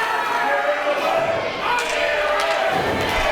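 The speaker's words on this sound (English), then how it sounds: "And this crowd is getting in behind him." A wrestling arena crowd roars steadily behind Dylan Cook in a 2015 Global Championship Wrestling match, a broad sustained cheer with a few thumps from the ring.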